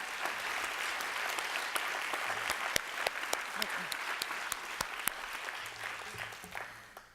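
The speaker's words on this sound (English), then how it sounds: "let's give her another big round of applause." A live audience at a London Borough of Culture press launch applauds a singer-songwriter, many hands clapping in a steady crowd wash with a few sharper near claps, easing off at the end.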